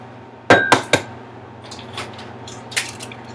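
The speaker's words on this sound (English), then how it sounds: "You're gonna crack your eggs, make sure no shell gets in there." Two eggs cracked against the rim of a measuring cup in a kitchen: three sharp close knocks in quick succession, then softer shell and liquid sounds and one more tap.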